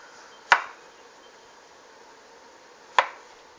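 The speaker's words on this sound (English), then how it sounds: "So I'm just going to cut slices" Knife slicing through ginger on a cutting board, two sharp, isolated chops spaced a few seconds apart in an otherwise quiet kitchen.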